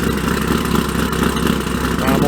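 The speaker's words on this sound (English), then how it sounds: "Wait till it settles down, and then I'll give y'all an idle." A cammed Corvette C5 engine idles just after a cold start, producing a loud, close, steady rumble with a choppy, uneven lope that runs throughout without a break.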